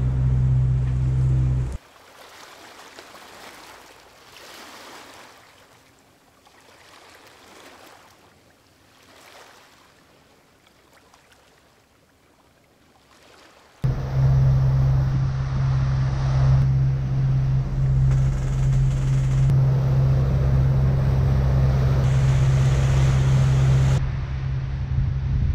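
Lagoon 42 catamaran sailing under full sails with one engine running, a faint hiss of wind and water at first, then a loud, steady rush of water and wind over a constant low engine drone.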